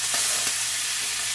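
Thin pork chops frying in oil in a pan give a steady, close, bright sizzle that holds even throughout, with no talking.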